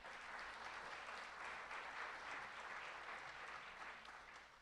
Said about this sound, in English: how about a round of applause for our many sapling sponsors?